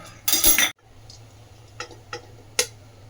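A spoon clinks against a pot while ground dry fruits are stirred into a date and ghee mixture for laddu: one long scraping burst, then a few light separate taps.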